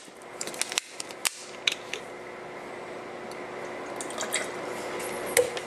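Water trickles and drips into a glass of Greek frappe coffee, a thin steady pour with a few brief clinks near the start, quiet and close, with no one talking.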